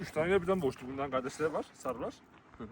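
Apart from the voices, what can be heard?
No everyday noise stands out behind the speech.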